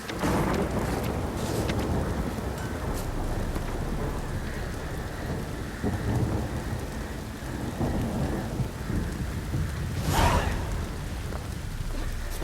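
Heavy rain pours steadily in The Witcher 3, a dense continuous hiss with low rumbling thunder rolling underneath and a sharper crack near the end.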